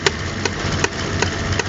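A car engine under full throttle that will not rev up, giving a rough, labouring drone with regular misfire-like knocks about every 0.4 seconds, close and loud with no talk.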